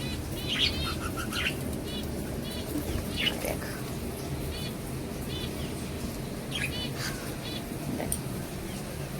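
Birds chirp and tweet in short bursts over a steady background hum, with a few brief calls standing out near and clear.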